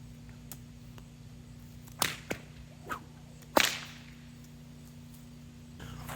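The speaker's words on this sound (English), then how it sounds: "just focusing on the real basic crack of a cattleman's crack" A single cattleman's crack from a whip, practised as a basic self-targeting stroke: a few soft swishes, then one sharp, loud, close crack with a short ringing tail, otherwise quiet.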